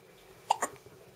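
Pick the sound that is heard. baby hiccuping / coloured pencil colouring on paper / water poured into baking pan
baby hiccuping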